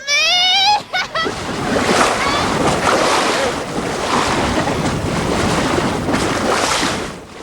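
Wind and ocean waves rush steadily around a sailboat at sea off Orcas Island, a continuous loud broadband roar with gusting wind buffeting the microphone throughout.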